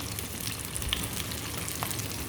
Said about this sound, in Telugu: ఇప్పుడు ఈ ఉల్లిపాయల్ని మనం బాగా బ్రౌన్ కలర్ వచ్చేదాకా బాగా వేగించుకోవాలి